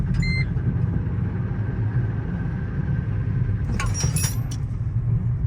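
A $225 Mercedes-Benz C230 drives along, its engine a steady low rumble close by that holds throughout, with a brief metallic jangle of keys partway through.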